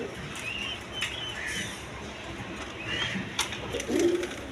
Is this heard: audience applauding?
no